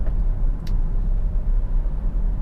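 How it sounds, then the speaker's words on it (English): A Honda CR-V 2.2 i-CTDi diesel engine idling, heard up close as a steady, even low rumble that holds without fluctuation, with a faint brief click partway through and no talking. "idles absolutely perfectly, it doesn't fluctuate in any way. It's a clean, crisp revving engine."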